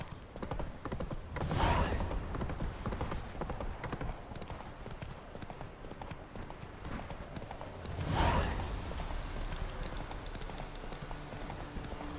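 Horse hooves clip-clopping in the video game The Witcher 3: Wild Hunt, a steady trotting rhythm heard close over soft ambience, with two louder swelling passes and faint background sound between them.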